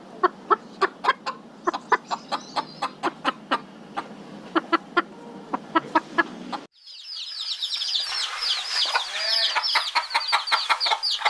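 Farm chickens cluck in sharp, evenly spaced bursts close by, then give way abruptly to a dense flurry of high, busy chirping and clucking calls from a crowd of fowl, with no talking.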